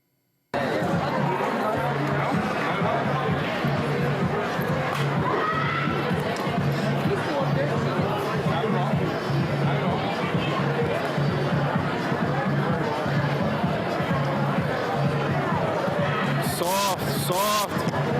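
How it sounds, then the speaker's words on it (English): A crowd reacting around a Wing Chun sparring match, busy chatter and murmuring voices with scattered shouts and thumps, continuous and fairly close, with a few sharper outbursts near the end. "listen to the crowd reaction"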